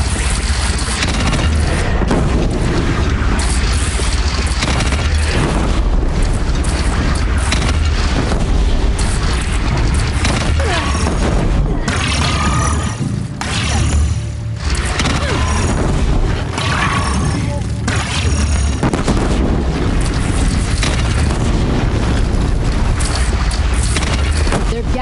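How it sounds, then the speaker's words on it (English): Cannon fire booms through a battle against a bandit clan near a bridge in the Horizon Zero Dawn video game, loud and constant, with heavy blasts layered over a dense rumble of combat noise. "They only have one cannon!"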